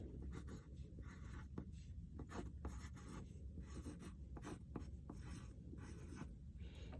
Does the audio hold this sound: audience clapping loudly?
no